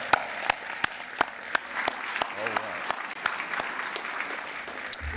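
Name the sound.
audience applause at graduation ceremony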